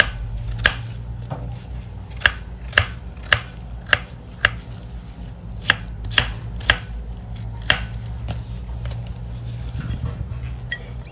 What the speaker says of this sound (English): you have to slice or chop the guava fruit to be very small piece